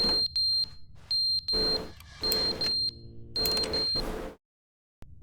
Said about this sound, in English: Smoke detector or something?